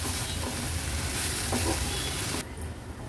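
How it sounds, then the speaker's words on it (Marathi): Vegetables and onion cooking in a pan on a low flame for a Kolhapuri masoor thali give a steady, moderate sizzle with a few stirring scrapes. The sizzle then drops off abruptly near the end. "आता 4 ते 5 मिनिटांसाठी लो फ्लेमवर भाजी आपण शिजवून घेणार आहोत"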